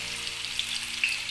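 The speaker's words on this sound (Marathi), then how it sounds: "असे थोडे थोडे करून आपण हे जे आहे ते तळून घेणार आहे स्लाइस भेंडीच्या" Okra slices fry in hot oil, a close, steady bubbling sizzle with sharp little crackles and pops that spit out now and then.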